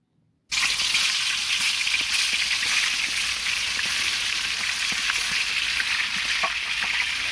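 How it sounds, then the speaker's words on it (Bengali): Meat frying in a pan on a wintertime cooking stove: a loud, steady hiss and crackle starts abruptly after a brief silence and continues evenly to the end, close up with no talk. "ডিমগুলো নেমে আমরা মাংসগুলোকে ভাজা শুরু করলাম"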